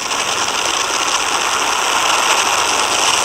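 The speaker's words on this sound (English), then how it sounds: "And liftoff of the first United Launch Alliance Vulcan rocket, launching a new era in spaceflight to the moon and beyond." A United Launch Alliance Vulcan rocket on its first flight, powered by BE-4 engines, roars at ignition and liftoff, a loud, dense and unbroken rumbling blast with no voices.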